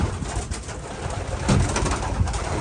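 Racing pigeons in a loft coo continuously with soft, low rumbling calls, layered and close, over a steady background hiss, with no talking.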